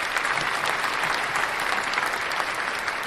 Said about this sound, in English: want to give him another round of applause for coming home and getting right to it